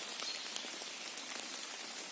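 Steady light rain pattering on surfaces in a mushroom-picking forest, a soft continuous hiss with scattered drops, fairly quiet and unbroken.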